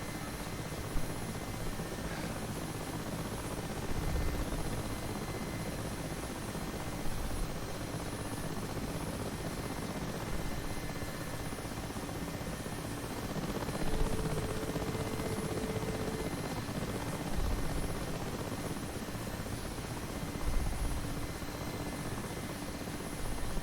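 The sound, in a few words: Mi-8 Hip helicopter flying in video game DCS World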